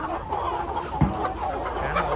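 Binh Dinh chickens, black-legged hens and young roosters, cluck softly amid a busy farmyard, with a brief close cluck standing out over steady background noise.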